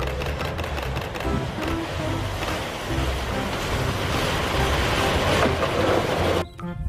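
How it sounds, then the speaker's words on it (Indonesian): A Thomas toy train's motor whirs and clatters steadily up close, a continuous mechanical rattle that cuts off near the end. "Ini kereta Thomas."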